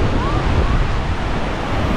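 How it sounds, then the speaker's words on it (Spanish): Ocean waves break on the beach at Bombinhas as the tide rises, a loud and dense wash of surf that roars steadily through the short clip with no voices. "Está creciendo un poco la marea, las olas están un poco más, con más volumen, más grandes."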